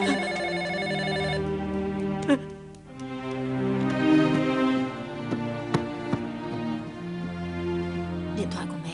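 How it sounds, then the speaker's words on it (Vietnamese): A telephone rings indoors in a television drama scene, a bright electronic ringtone repeating in steady bursts throughout, with voices talking over it. "Điện thoại của mẹ."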